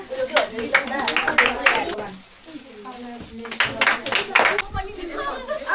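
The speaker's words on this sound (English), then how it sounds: "clap for him" Children's Day celebration at a tutorial school in Darjeeling, where a group claps for a prize winner in bursts of scattered hand claps mixed with children's chatter, pausing briefly midway then resuming.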